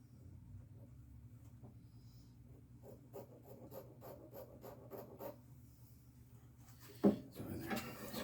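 A wooden bass guitar neck is shaped by hand, with a low background hum under quiet rasping strokes that become a steady run of rhythmic back-and-forth filing, ending in a sharp knock and some handling noise.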